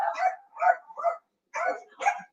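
Several dogs bark in a quick burst of five sharp, close barks, two groups split by a short pause, with no talking.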